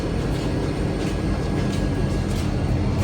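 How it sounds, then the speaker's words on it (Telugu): A Vande Bharat sleeper train stopping at a station makes a loud, steady rumble and hiss that fills the whole clip, close by and unchanging, with no voices. "వందే భారత్ ట్రైన్ స్టాప్ ఆగింది."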